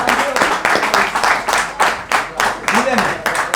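Applause at an FC 26 football video game event in Macedonia: bursts of clapping from a small crowd, loud and close, repeating in uneven pulses with voices talking over them.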